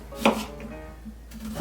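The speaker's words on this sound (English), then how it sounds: "what you need to do is cut it pretty thin" A knife cuts thin slices from a red onion for Hungarian potato salad, giving one sharp close chop followed by a few softer board taps in a quiet kitchen.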